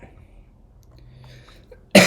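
A single sharp, loud cough from a person sick with a cold bursts out abruptly at the very end, after near silence.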